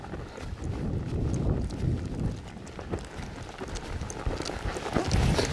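A horse's hooves walking over ground outdoors, giving soft, irregular clip-clop thuds partly buried under wind noise on the microphone.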